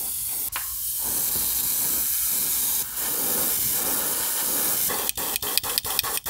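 An airbrush sprays white paint onto a crankbait fishing lure, giving a steady, close hiss that runs almost unbroken for several seconds before breaking into a series of short sharp clicks and bursts near the end.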